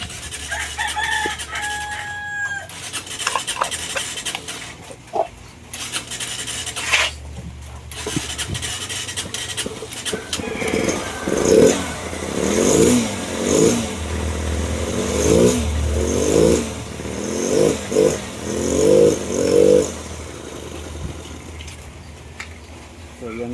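Motorcycle engine with a MAP sensor circuit-low fault (P0107) and misfiring, starting and then revving in repeated pulsing bursts, with a rooster crowing nearby and a voice speaking in the background.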